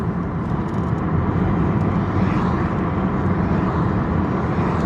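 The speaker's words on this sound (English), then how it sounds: "Let's turn on the defrost." A car's defrost blower fan roars steadily at high speed, a broad, loud, unbroken whoosh of air filling the cabin with no gaps and no voices over it.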